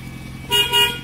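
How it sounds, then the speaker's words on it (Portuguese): A car horn sounds in two short, loud honks close by, part of a check on a repaired car's electrical system at an auto-electric shop. "buzina"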